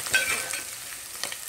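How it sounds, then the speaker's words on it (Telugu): Fenugreek leaves fry in a pan with a soft, steady sizzle and a few light stirring scrapes, close and fairly quiet, with no voice present. "చూడండి, మెంతాకు బాగా ఫ్రై అయిపోయింది."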